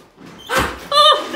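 A door at the Sovereign Hill heritage site bangs with a single loud thud in the middle, followed by a higher ringing creak or squeal, with a person's voice briefly nearby.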